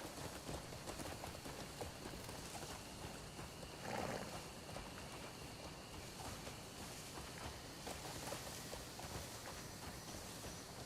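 A horse in a video game clip-clops along at a steady walking pace over a rainy outdoor bed of noise, moderately close, with a brief louder swell partway through and no talking.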